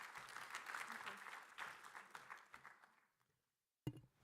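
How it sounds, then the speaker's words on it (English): Audience applause in a conference auditorium at the International Astronautical Congress, welcoming a moderator on stage: dense clapping for about three seconds that fades out, a brief silence, then a short burst of sound. "Please give her a warm round of applause."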